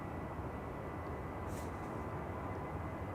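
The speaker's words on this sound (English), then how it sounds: "Delta A330 to Tampa, Florida is now taking off via center" A Delta Airbus A330 jet takes off at Amsterdam Schiphol, a steady, distant roar of engine noise with a low rumble that holds evenly throughout.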